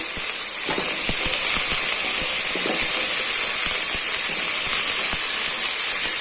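Onions and drumstick pieces sautéing in a pan, giving a steady, loud sizzling hiss with scattered small crackles and pops throughout, close up and with no talking.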